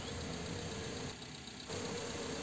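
A car engine idles after an oil change with a steady low hum and faint ticking, close and even, with a brief dip in level midway and no talk.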